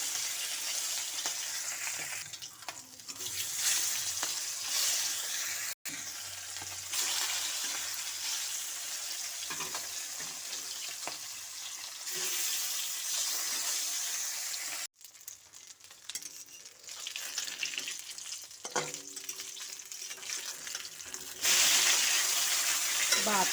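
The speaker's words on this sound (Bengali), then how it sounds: "তেল গরম হয়ে গেছে, এখন দিয়ে দিচ্ছি মাছ। প্রথমে লেজটা দিয়েছি" A whole fish, tail end first, fries in hot oil for a Bengali fish and ridge gourd dish, giving a loud, sustained crackling sizzle with a couple of abrupt cuts and a louder surge near the end, close and without speech.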